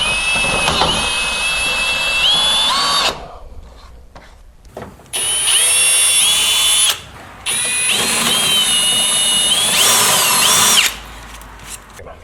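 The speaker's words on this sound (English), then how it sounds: "that's where you're going to drill out your hole. First, start off with a small drill bit like this" A power drill whines loudly as it bores a hole behind a 2014-2018 Silverado/Sierra grille shroud in several bursts, stopping briefly between runs, with a short quiet gap partway through.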